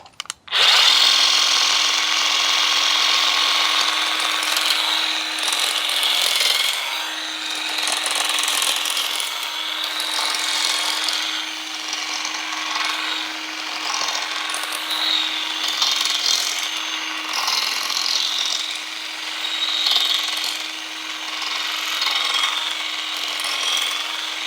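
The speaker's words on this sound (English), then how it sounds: "So first we'll start out with the traditional hedge trimmer style" A Greenworks 24V grass shear fitted with a hedge trimmer blade cuts through a bush, a loud, close, steady buzzing drone with rustling and clipping texture that persists almost unbroken, without any talking.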